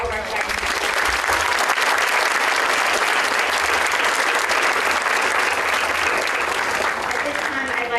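A large banquet audience at a Teacher of the Year event bursts into loud, continuous applause, a thick roar of clapping that holds steady throughout, with voices faintly mixed in.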